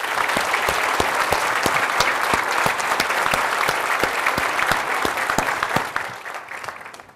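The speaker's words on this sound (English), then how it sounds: "Let's give them a round of applause" Applause from a lunch audience at a governor's luncheon, steady dense clapping close by with sharp individual claps standing out, holding strong for several seconds before fading at the end.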